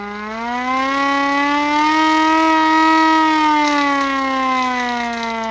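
A loud civil-defense-style siren sound effect plays on a livestream, one steady rising and slowly falling wail with strong harmonics, heard alone and close, with no voices.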